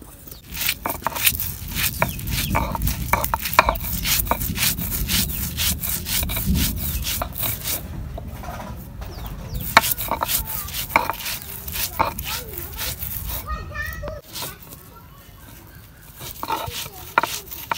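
Fried taki fish and moj being ground on a shil-pata grinding stone, a close rough scraping and rubbing repeated in steady back-and-forth strokes, with occasional knocks of stone.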